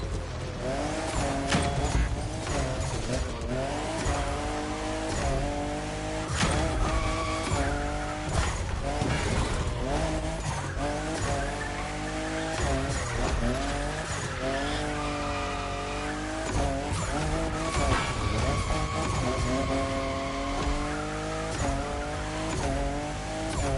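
A Toyota Supra, fifth generation, drifting in The Crew Motorfest: a high revving engine rising and falling through gear changes, with continuous tire squeal throughout and music underneath.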